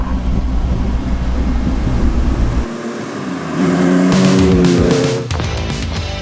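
A GTO Engineering Ferrari 250 SWB Revival, a recreation of the 1950s classic, drives by with a loud engine note that swells as it revs and shifts, rising in pitch before settling.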